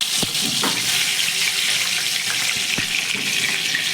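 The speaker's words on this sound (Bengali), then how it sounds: "এবার একটা আম এই তেলের মধ্যে আমি দিয়ে দেব।" Raw mango fries in hot oil in a pan, producing a loud, continuous close-up hiss and sputter punctuated by a few sharp pops and crackles.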